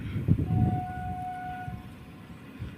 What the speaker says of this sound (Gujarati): ટ્રેનની અવાજ આવી તમને બધાને?